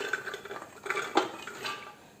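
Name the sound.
chopped jackfruit seeds being put into a pressure cooker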